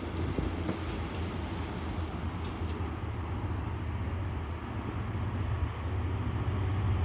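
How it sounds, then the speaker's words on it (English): A Freightliner Class 66 freight train, 66528, rumbles past St Denys station in a steady, continuous low roar with a broad rushing wash of wagon noise that holds at fairly even loudness throughout, with no talk. "Back to the Freightliner class 66 now."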